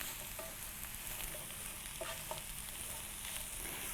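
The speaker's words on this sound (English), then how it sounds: "we're going to stir them all together and cook them down" Cabbage and other vegetables stir-fry in a pan, giving a steady, close sizzle throughout with a few soft scraping and stirring knocks from the utensil, and no voices.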